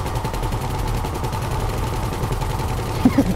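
Steady rapid gunfire in GTA V Online during a Humane Labs heist, aimed at a helicopter's blades, forming a continuous rattling stream with a dense low rumble and a few sharper hits near the end.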